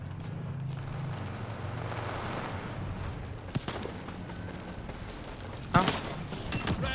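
Scattered gunfire pops up in a Battlefield 2042-style shooter, with a few sharp distant shots over a low ambient rumble while someone talks.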